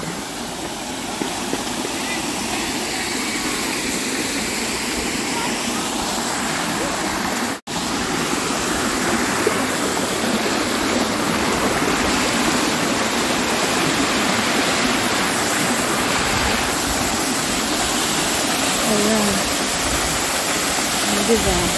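A waterfall at Rockhampton Botanical Gardens gives a continuous, loud rushing roar that fills the scene, with one brief dropout early on and voices faintly beneath it.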